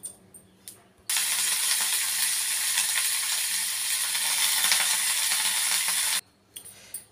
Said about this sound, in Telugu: ఈ ఆకుల్ని నూనెలో నెమ్మదిగా వేయించుకోవాలమ్మా.